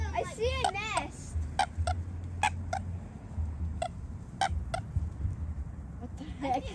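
Turkeys gobbling near a lake in a residential community, repeated short gobbles and clucks at moderate distance, with people talking nearby.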